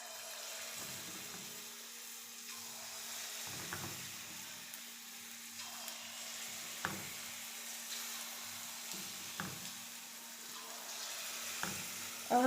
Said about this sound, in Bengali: এবার আমি তেলের ওপরে একটা একটা করে দিয়ে দেব।